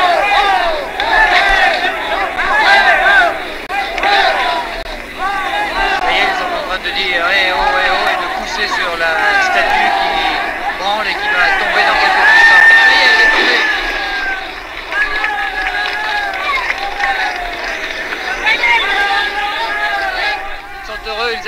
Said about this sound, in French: Ils applaudissent, ils montent dessus